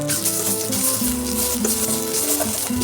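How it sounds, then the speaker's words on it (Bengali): Cumin seeds and a little ginger crackle and sizzle steadily in about two spoonfuls of hot oil in a pan, a close and continuous fry under faint background music. "জিরে ফোড়ন দিয়ে প্রথমেই আমি একটু আদা যেটুকু ছিল সেটা দিয়ে দিলাম"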